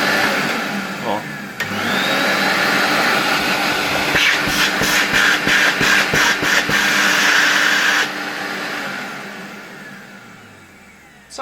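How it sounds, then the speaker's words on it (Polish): An old Zelmer vacuum cleaner switches on with a click, holds a loud, steady motor whine and airflow roar for several seconds, then cuts off and slowly spins down into quiet. "Możemy go nawet, nawiasem mówiąc, na chwileczkę podłączyć, przypomnieć sobie, jak ten odkurzacz działał."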